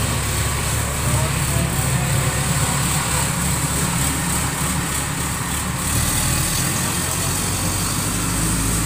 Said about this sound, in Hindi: बस एक सेकेंड, ट्रैक्टर आ रहा है, थोड़ा सा डिस्टर्बन है